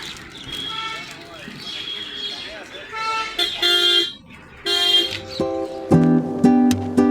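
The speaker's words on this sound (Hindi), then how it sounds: "गाड़ियाँ आना जाना कर रही है, हॉर्न देते हुए जा रही हैं" Vehicles pass along a road near Kaziranga National Park, with several short tonal horn toots and honks sounding through steady traffic noise, the honks growing louder and more frequent toward the end.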